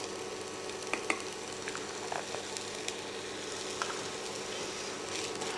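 Rosemary and thyme are stirred in a hot pan, a quiet steady sizzle with occasional soft scrapes and light clicks of the spoon, no voices.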